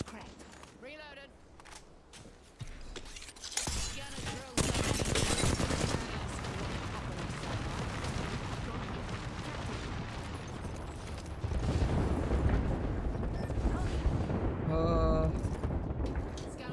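Bursts of rapid automatic gunfire and single shots crackle through an Apex Legends firefight, dense and loud, with in-game voice lines and effects layered over the shooting.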